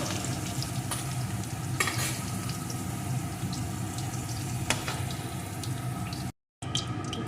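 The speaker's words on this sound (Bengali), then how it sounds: "এখন আলুগুলোকে সুন্দর করে ভেজে নেব" Potatoes fry in hot oil with a steady, even sizzle and occasional stirring scrapes, then a brief silent gap near the end.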